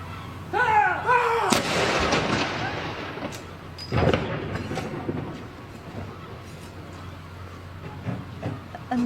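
Ceremonial artillery gun salute fired after the death of Prince Philip: loud booming cannon shots ring out in the open air with long echoing rumbles, a commander shouts orders before the first blast.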